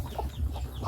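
Farm ducks make low, muffled quacking calls in a few soft bursts over a rumbling outdoor background, with no one talking.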